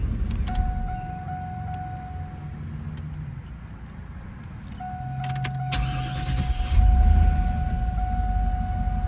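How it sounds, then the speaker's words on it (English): A 4th gen Chevrolet Camaro is switched off and restarted, with a steady chime tone, clicks and rattles, then the engine cranking and settling into a near idle rumble. "So now what I'm gonna do is turn off the car and then start it up again"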